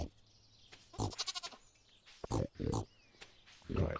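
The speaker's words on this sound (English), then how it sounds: "Because these pigs are hungry." Pigs grunting and squealing in the Stardew Valley farming game, several short bursts in irregular succession over a quiet background, with a voice talking briefly among them.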